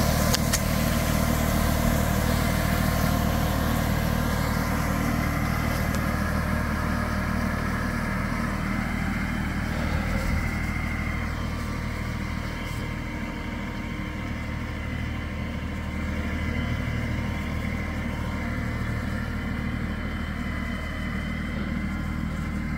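A New Holland Workmaster 40 compact tractor idles steadily and loudly up close, a constant low engine drone holding level throughout with no talking.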